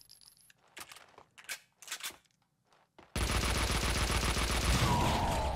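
A few quiet clicks and scattered taps give way to a sudden, loud, sustained burst of automatic gunfire in Max Payne 2, continuous and dense until the end.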